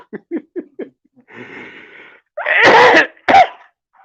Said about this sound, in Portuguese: Tenho medo da minha tosse, não é Covid,